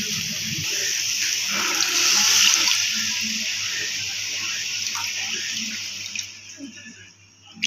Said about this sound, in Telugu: ఈ గ్లాస్తో 2 గ్లాసుల వాటర్ పోసుకోవాలి